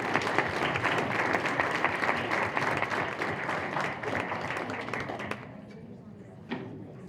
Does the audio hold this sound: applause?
yes